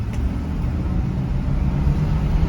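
A 1968 Canadian Ford LTD accelerates with a steady, muffled low engine rumble and road noise from inside the car, even and continuous throughout, with no speech.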